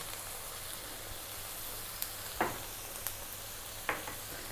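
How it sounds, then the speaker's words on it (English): Garlic ginger paste sizzles steadily in hot oil for a Bengali river-style carp fish curry, a soft, constant frying hiss with a few faint stirring clicks and scrapes on top, no one talking. "we're going to now drop in the garlic ginger paste, 2 tablespoons of a garlic ginger paste"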